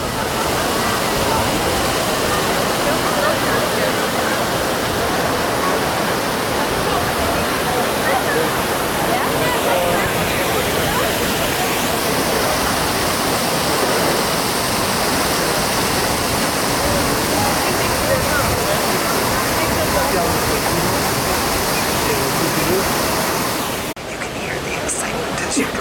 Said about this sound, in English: Water fishes from 24 spouts. It tumbles over 30 different kinds of plants.